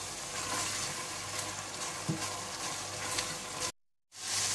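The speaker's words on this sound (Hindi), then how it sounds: "हल्दी पाउडर, धनिया पाउडर और जीरा पाउडर डालकर अच्छी तरह से मिला लें।" Turmeric, coriander and cumin powders fry and get stirred in a pan with red chili powder while making mutton liver kaleji masala, a soft continuous sizzle with an occasional scrape, then a sudden cut to silence.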